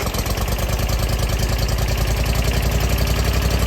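A Toro lawn mower engine with an automatic choke idles steadily, close and loud, with an even rapid throbbing pulse and no other sounds.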